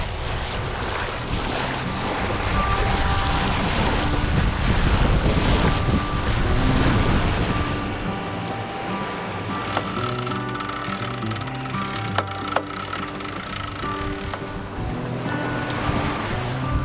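A sailboat beats into the wind and swell, with continuous rushing water, wave wash and heavy wind buffeting on the microphone, loud and steady, while creaks and rigging noises come through in the later part.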